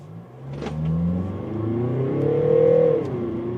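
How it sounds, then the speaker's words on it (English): A 2024 Mercedes V-Class V300d van with a 2-liter four-cylinder diesel accelerating in sport mode, the engine note rising steadily in a smooth climbing drone heard from inside the cabin, building loudness before easing off near the end. "Sport mode, acceleration."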